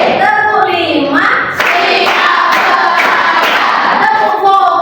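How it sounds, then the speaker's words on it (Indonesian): A class of young children clap together during a counted clapping game, their claps and shouted chant forming a steady crowded wash after the teacher's spoken cue. "Tepuk lima."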